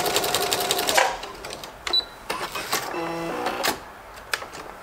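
Sewing machine backstitching a seam on a fabric baby blanket makes a close, rapid mechanical stitching burst, then short clicks and a brief whirring run, with quiet gaps between.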